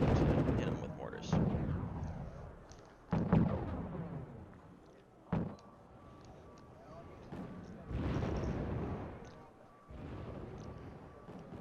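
Mortar and artillery rounds from a jungle combat video game boom in several separate heavy blasts, some sharp and some rolling, while someone talks throughout.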